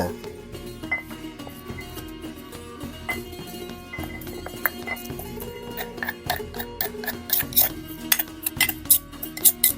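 A pestle pounds ingredients for a spicy red-ant dish in a mortar, with light, rhythmic knocks and small clinks that build in strength toward the end, heard close up without talk.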